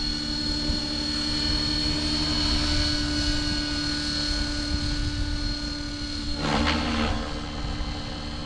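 A radio-controlled 3D helicopter flies inverted outdoors in cold weather, its rotor and motor giving a steady, loud whine with a short burst of extra noise near the end.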